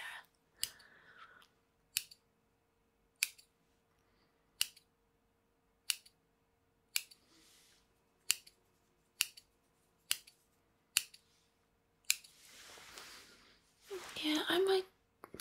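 Scissors snip hair close by in a quiet setting, about a dozen crisp, evenly spaced cuts, followed by soft rustling and handling noises near the end.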